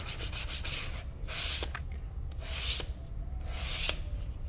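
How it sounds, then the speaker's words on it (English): A leather edge is rubbed with 320 grit sandpaper in steady, close back-and-forth strokes, a continuous gritty rasp that swells with each of several longer passes, with no voices over it. "I'm going to sand that edge a little bit too because there's glue on it"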